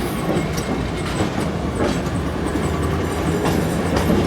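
Shunting rail wagons roll steadily along a tram track in Pyatigorsk with continuous rumbling and faint rhythmic clacking of wheels, loud and close, no talking.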